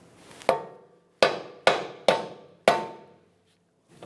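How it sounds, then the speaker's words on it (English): A hammer bangs the steering knuckle of a 2003-2007 Honda Accord to free the ball joint: five sharp metallic strikes, each ringing briefly, the last four in quick succession, then a faint sixth tap at the end. "a couple loving bonks with a hammer will cause vibration and it should want to separate"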